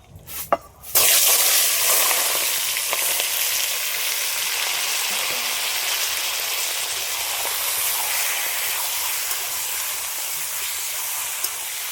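Chicken meat dropped into hot oil in a wok bursts into a loud, close, sustained sizzle after a few brief clatters, hissing steadily without any speech.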